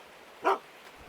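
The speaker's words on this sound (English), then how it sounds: "Hey, is that our dog?" A single short dog bark from a video game dog in Gold Mining Simulator, fairly loud and alone over a quiet background.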